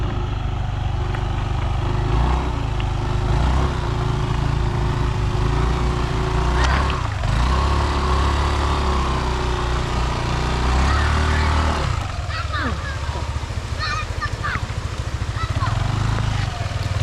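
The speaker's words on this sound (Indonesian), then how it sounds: "Kasihan sih Yamaha NMAX Turbo yang kami pakai disiksa kayak gini." A fully loaded Yamaha NMAX Turbo scooter rides a rough trail on a long touring trip. The engine drones loudly and steadily under continuous rattling and bumping, with a rider talking over it.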